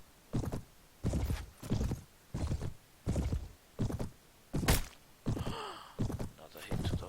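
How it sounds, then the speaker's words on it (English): A horse in the Mount & Blade game takes a hit and whinnies amid steady rhythmic hoofbeats, loud clopping pulses about once per second with a brief neigh near the end. "Another hit to the horse."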